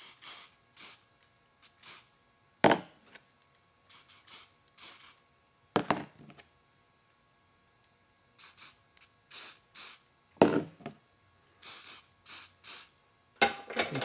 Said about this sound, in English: just give them a good spraying